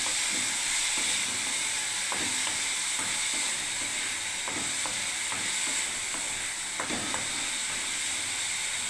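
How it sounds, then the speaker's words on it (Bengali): A mixed-vegetable stir-fry of beans, yardlong beans, capsicum and whole flat beans sizzles steadily in a pan, with scattered scrapes and taps of a spatula as it is stirred. "আমি এবারে নাড়তে থাকবো। এটা পাঁচমিশালি ভাজা"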